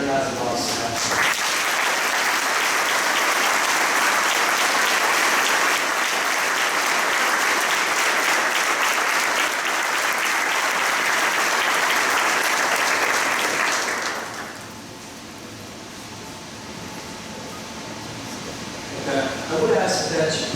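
Sustained audience applause for the staff at a junior firefighter academy graduation, dense and loud for about fourteen seconds before fading to scattered claps and room murmur.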